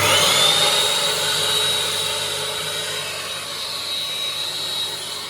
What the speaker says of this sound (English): Press the vacuum and pump button.